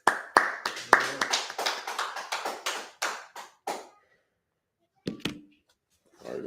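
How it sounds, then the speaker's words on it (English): A small congregation claps in short bursts of sharp, close hand claps, a dozen or so crisp hits over about four seconds, then a pause, a few scattered final claps and a brief voice. "Clap that up."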